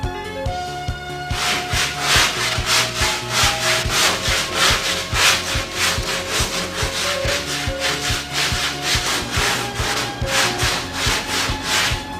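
Rhythmic back-and-forth strokes of a hand sander on a car body panel, steady and close, with a faint tone humming underneath and no talking.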